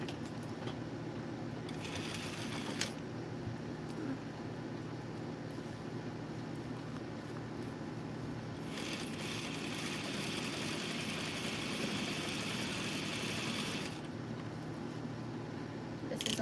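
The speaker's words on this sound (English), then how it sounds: "we're going to sew this together." A sewing machine stitches fabric during embroidery and alteration work, humming at a steady, fairly faint drone with a couple of brighter stretches where the stitching speeds up, no talking.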